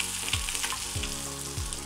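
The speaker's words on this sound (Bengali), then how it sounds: "মাছের এক এক পিঠ 30 সেকেন্ড করে ভেজে নিচ্ছি।" Pieces of rohu fish fry in hot oil with a dense, loud crackling sizzle that runs continuously, close by, punctuated by a few soft low thuds.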